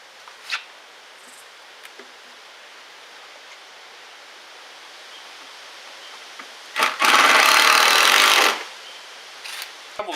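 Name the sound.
power drill driving long screws into wood boards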